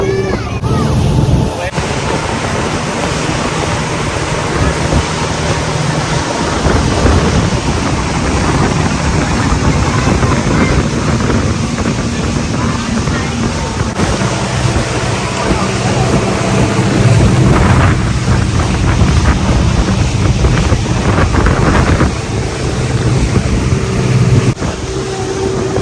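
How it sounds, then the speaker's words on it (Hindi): Water taxi motoring across open water from downtown Toronto toward the Toronto Islands, its engine droning steadily with wash and wind noise throughout, while voices talk intermittently over it. "जनाब अभी हम बोट में बैठ के एक आइलैंड की तरफ जा रहे हैं।"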